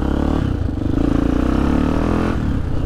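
A Honda XR400R motorcycle climbs a hill at part throttle, its loud, close single-cylinder engine thumping and rising slightly in pitch before easing off.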